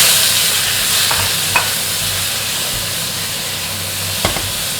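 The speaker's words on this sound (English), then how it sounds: "Put the tomato in, be careful it splatters." Tomato frying in hot oil in a wok gives a dense, continuous sizzle and hiss, with a few sharp pops of spattering breaking through.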